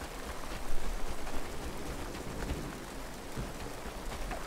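Rain falls in the video game Pid, a dense, even hiss of drops with a slight swell near the start, then steady and alone without talk.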